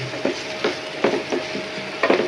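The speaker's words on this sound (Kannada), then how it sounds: "ಜಸ್ಟ್ ಈಗ ಒಗ್ಗರಣೆ ಇಟ್ಟದಷ್ಟೇ. ಎಲ್ಲ ಚಟಪಟ ಅಂತ ಹಾಕಿ" Tempering spices crackle and sizzle in hot oil for egg fried rice, a close, steady hiss broken by repeated soft scraping strokes of a spatula at an even rhythm, with no talk.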